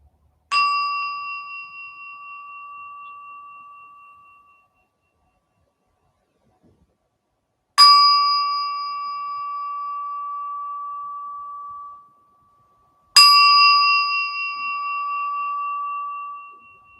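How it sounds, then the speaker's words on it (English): Three meditation bells rung one after another at a guided meditation, each a clear sustained ring that fades slowly into silence before the next strike. "These three bells represent to our ears not only alerting us"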